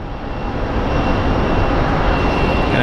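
SkyWest Embraer 175 jet at Phoenix Sky Harbor, a loud continuous engine roar with a faint high whine, steady and close for a brief moment.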